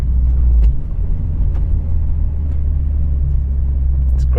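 A Honda Civic Type R FD2 drives slowly along a small road, its engine a loud, steady low rumble with a brief dip early on as a gear shift takes place.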